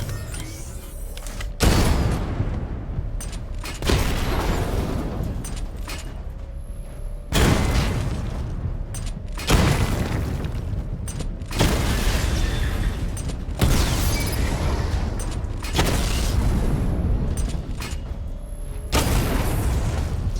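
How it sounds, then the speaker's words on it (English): Heavy booming explosions from a missile barrage in Batman: Arkham Knight, arriving as a string of loud, sudden blasts about every two seconds, each followed by a rumbling decay. "Charge the missile barrage to level 2 to destroy up to 4 targets at once."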